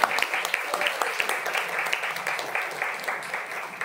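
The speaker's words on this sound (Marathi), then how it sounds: "त्यामुळे सगळ्यात पहिल्यांदा त्यांच्यासाठी खूप साऱ्या टाळ्या तुम्ही वाजल्या" An audience at a school rain-and-poetry performance by twelfth-grade students claps for the script writers, a dense, continuous round of applause heard fairly near and holding steady throughout.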